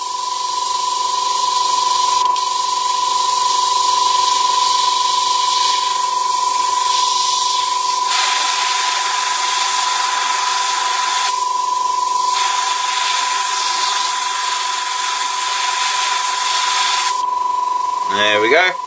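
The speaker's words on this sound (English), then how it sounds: "So let's fire up the airbrush and we'll quickly do these." Airbrush spraying paint onto model German WWII jerry cans, a steady close hiss running almost without break, with a tonal hum from the compressor beneath and brief shifts in pressure before it cuts off near the end.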